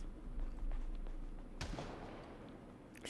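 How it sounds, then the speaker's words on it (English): One distant gunshot in the video game Project Zomboid cracks out as a single sharp report with a short rumbling decay, over a low steady ambient hum and faint scattered ticks. "Just heard a gunshot."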